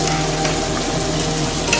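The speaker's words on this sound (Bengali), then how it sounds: "সেই আলু দিয়ে ভালো করে মশলাটা দিয়ে মাখিয়ে ভাজা ভাজা করতে হবে বা কষাতে হবে" Boiled potatoes fry and get stirred through a spiced masala for ghugni, a steady loud sizzle with scraping stir strokes running throughout, no talking.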